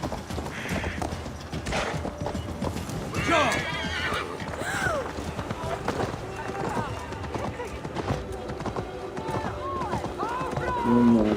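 A horse neighs and gallops with steady clip-clop hoofbeats in the Assassin's Creed Valhalla video game, mixed under in-game music and ambience throughout, with a loud whinny near the end.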